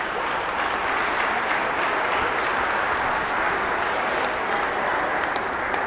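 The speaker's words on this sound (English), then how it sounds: "gets a nice round of applause" Steady crowd applause fills a high school girls' basketball gym as a player walks back to the bench, a dense, even clapping wash that holds loud and continuous for the whole stretch with no talk over it.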